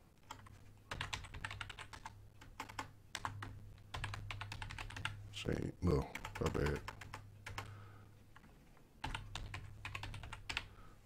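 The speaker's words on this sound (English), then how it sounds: "excuse me for the typing" Rapid bursts of typing on a computer keyboard while setting up an American Truck Simulator profile, clicks clustered in uneven runs with pauses, a steady low hum underneath and someone briefly speaking partway through.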